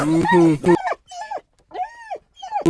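A dog whimpering and whining in a series of high, wavering cries with short pauses between them, heard close after a brief voice at the start.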